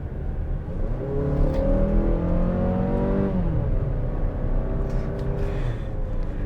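A 2024 Mazda CX-5 with a 6-speed torque converter automatic accelerates, the engine note climbing steadily then dropping as the transmission downshifts, a loud continuous drone heard from inside the cabin with no talking.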